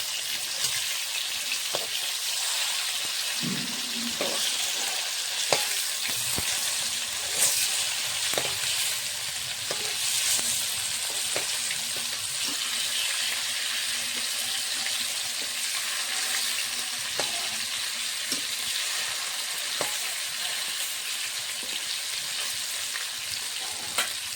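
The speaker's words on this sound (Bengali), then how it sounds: "সরষের তেলে মাছগুলো ভেজে নেব।" Fish pieces frying in mustard oil, a loud continuous sizzle and crackle with scattered pops and a few utensil touches, lasting without any voices.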